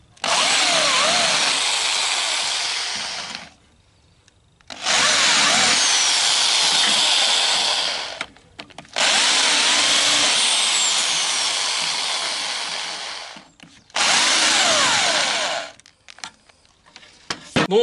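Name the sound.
drill countersinking rivet holes in car body sheet metal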